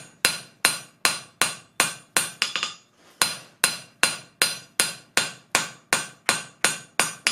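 Air-powered rivet tool pounding hot metal during air forging, reforging a divot: steady rapid hammer blows about three per second, loud and close, with a brief burst of quicker hits and a short pause midway, no talk.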